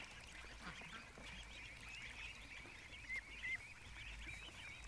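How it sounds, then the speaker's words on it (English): Repeated duck quacks, harsh and nasal, sounding at a moderate distance over steady outdoor background noise, with a couple of louder calls near the end. "she just walks around quacking like she's so pissed"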